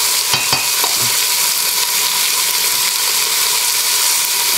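Chopped vegetables for a roast cauliflower and parsnip soup sweat in a hot pan with melted stock, giving a steady, close sizzle and fry with a few brief stirring clicks near the start.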